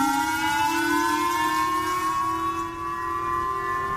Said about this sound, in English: The launch last night prompting raid sirens as the government told people to take cover.